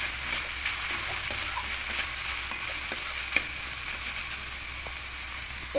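Chopped banana stem (thor) sizzles in hot oil in a pan while a spoon stirs it, giving a steady close frying hiss with faint scraping ticks throughout.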